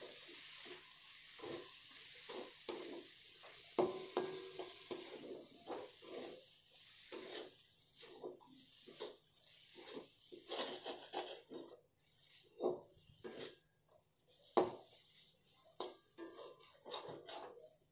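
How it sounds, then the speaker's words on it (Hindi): Stuffed parwal masala stirred in a pan over medium flame, with repeated scraping and clinking of a metal spoon against the pan in uneven bursts and soft sizzling underneath, close and fairly quiet. "और अब हम इसे अच्छी तरह मिला लेंगे।"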